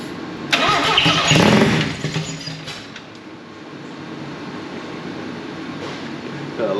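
An old race Mazda RX4 with a newly fitted rotary engine cranks and fires, a loud starting burst that settles into a steady close idle.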